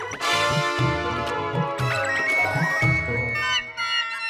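A mobile phone rings with a bright, tinkling melodic ringtone that plays continuously, loud and close, in an indoor comedy scene.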